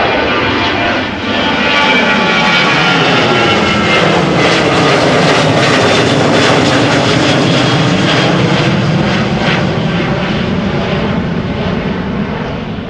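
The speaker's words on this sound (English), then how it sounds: "this should be KLM flight 1115 going to Stockholm" KLM passenger jet at Amsterdam Schiphol Airport, bound for Stockholm, roaring loudly and steadily for the whole stretch, with a dense engine rumble that swells slightly as it passes nearby, without any talking.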